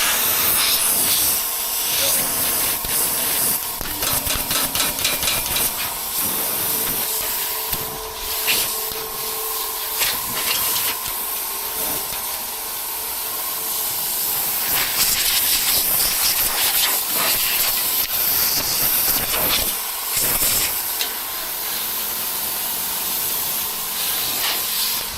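An air compressor on a farm runs continuously with a loud, steady hiss and mechanical chatter, occasionally shifting slightly in intensity.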